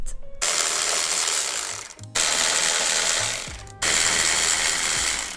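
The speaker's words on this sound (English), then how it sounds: "So before I remove the jack, I am going to be removing these 3 bolts, 2 and 1 right there." A ratchet wrench loosening bolts on a BMW X5 M50i strut, with three bursts of rapid clicking separated by brief pauses, close and loud.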